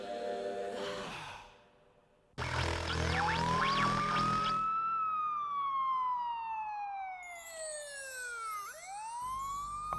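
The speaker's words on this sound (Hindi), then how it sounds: "ओ यार ये सायरन खामका बजता है यार।" A cartoon siren wails in long rising and falling sweeps, loud and alone, then drops sharply and starts climbing again after a brief burst of other noise.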